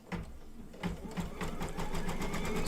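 An embroidery sewing machine stitches an in-the-hoop mug rug with a rapid, steady needle clatter, fairly quiet and continuous, with no talking.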